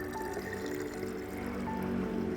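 Homemade organic pesticide solution is poured into a sprayer for garden orchids, a continuous close liquid pour and trickle filling the space steadily without pause.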